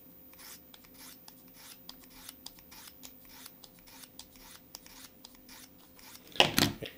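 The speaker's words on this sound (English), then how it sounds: "hold it like this, and now you can sharpen the knife." A Swiss Army knife blade is drawn across a sharpener held in a holder, giving repeated quiet rasping strokes in an even rhythm, followed by a louder brief scrape near the end.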